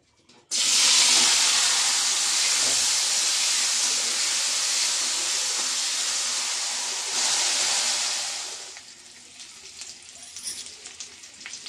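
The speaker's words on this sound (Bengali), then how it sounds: "এখন বেগুনটা ভেজে নেই তেলটা আমার গরম হয়ে গেছে এখন বেগুনটা দিয়ে দিচ্ছি" A sudden loud sizzle as eggplant hits hot oil, a steady hiss for several seconds that then dies down to softer crackling.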